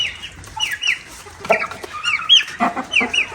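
A rooster and chickens cluck close by in a farmyard, with repeated short clucks and calls in an uneven rhythm and no voices.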